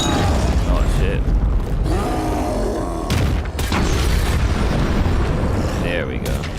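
Gunfire in a video game rattles in sustained loud bursts with heavy booming impacts, dense and continuous, with short breaks and some mechanical clatter.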